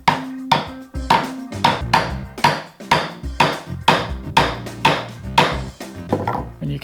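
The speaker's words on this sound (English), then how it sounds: "I'm actually going to spin it around so I can see if I'm chopping down square or not." Sharp, evenly spaced mallet blows drive a chisel into wood, chopping a stub mortise for a Shaker table, about a dozen loud, close knocks in a steady rhythm with no talking.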